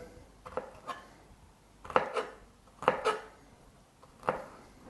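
A knife cuts through ginger on a board in a handful of separate crisp knocks and slicing scrapes, close and fairly quiet, spaced roughly a second apart.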